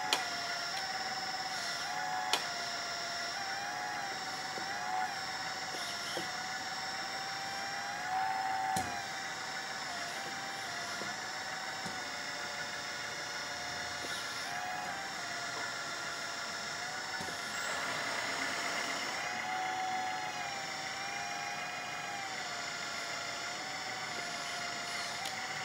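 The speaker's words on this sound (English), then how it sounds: "Also can open the bucket directly, tilt up, and open bucket, shaking it, unloading," A LESU 1/14 RC hydraulic excavator (Aoue-BL71 backhoe loader) tilts and unloads its bucket, a faint continuous hydraulic pump whine with wavering pitch changes and a few small clicks as the bucket shakes.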